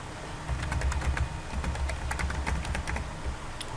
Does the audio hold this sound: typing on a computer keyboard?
yes